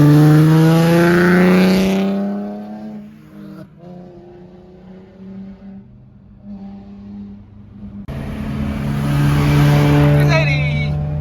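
A Mercedes revs loudly at a Friday night car meet, engine rising in a strong pull, easing off briefly, then surging again close by while people talk in the background.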